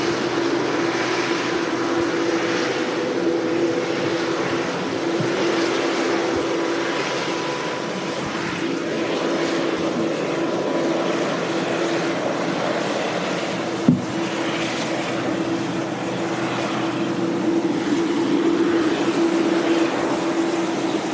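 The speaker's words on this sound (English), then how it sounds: "Great sound from the Dreamliner as it taxis past" A Boeing Dreamliner airliner taxis past at Manchester Airport, a steady engine whine and broad roar holding level throughout, near and continuous, with a brief thump partway through.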